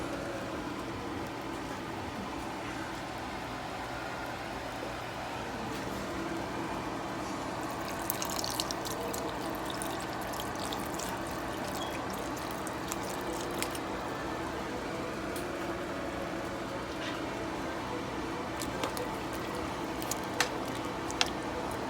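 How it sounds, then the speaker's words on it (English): Beef broth pours into beef tips cooking in a pot, a steady liquid rush and gurgle that continues for a long stretch with a few small clinks near the end. "I'm gonna add some more beef broth."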